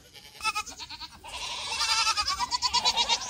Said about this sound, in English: The goats are hungry